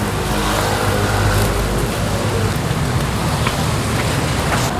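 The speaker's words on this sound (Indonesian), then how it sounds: "Ya, hujannya kayak gini." Heavy rain pours down in a steady, dense hiss while car traffic rumbles through it on a street in Taiwan, loud and continuous.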